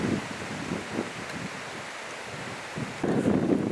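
Wind blowing across a fishing spot at Great Linford Lakes on a sunny day: a steady rushing buffet against the microphone that eases in the middle, then swells into a stronger gust, with no talking.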